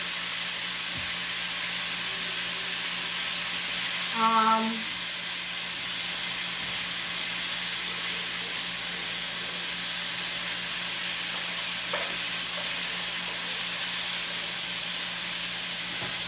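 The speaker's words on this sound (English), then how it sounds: "while my chicken is frying" A constant, soft sizzling hiss of chicken frying in a pot, with a brief tonal clink partway through and faint kitchen sounds.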